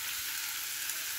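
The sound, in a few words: beaten egg added to hot pan, sizzling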